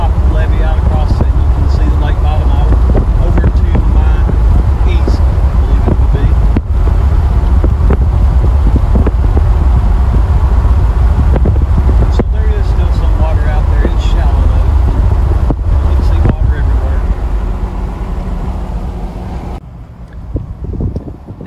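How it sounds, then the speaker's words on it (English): Strong, steady wind buffets the microphone with a low rumble throughout while driving across the top of a lake levee, easing slightly near the end. "I know the wind's probably going to be horrible"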